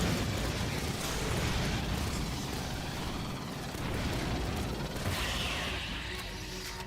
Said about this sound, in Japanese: すごい爆発。